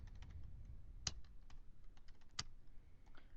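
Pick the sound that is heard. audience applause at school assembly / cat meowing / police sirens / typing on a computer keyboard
typing on a computer keyboard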